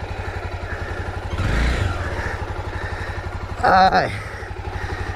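A motorcycle that has just fallen idles with a steady low chugging beat, briefly clattering and rising before a short rev, while a voice exclaims over it.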